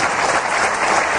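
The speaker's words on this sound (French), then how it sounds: "C'est qu'on n'applaudit pas normalement dans cette émission" A TV studio audience breaks into steady, dense applause, loud and close, filling the whole moment without any voices over it.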